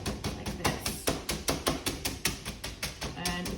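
A meat mallet pounds covered chicken for schnitzel in a steady series of about a dozen sharp, close thuds at an even rhythm.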